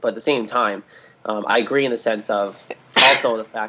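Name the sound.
sneeze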